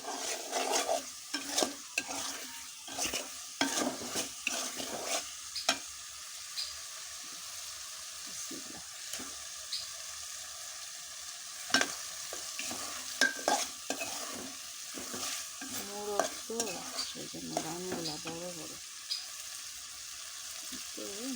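Chicken pieces of a desi rooster going into fried spice paste in oil, with repeated scraping stirs and soft sizzling, a few clatters of a spoon against the pan, close up and moderately loud with no talk.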